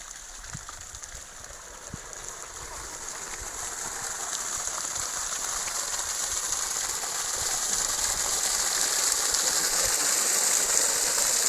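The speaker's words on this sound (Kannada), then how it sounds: "Pressure 5 HP pump set run ಆಗ್ತಾ ಇದೆ. This is only on solar system" A solar-powered 5 HP water pump set runs with a steady, loud mechanical whir and rushing water hiss that grows slightly over time, with no talk.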